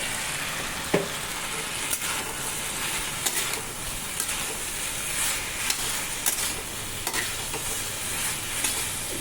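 Vegetable curry sizzling and frying in a pan, a steady dense hiss broken by occasional stirring scrapes and clicks, close and continuous throughout.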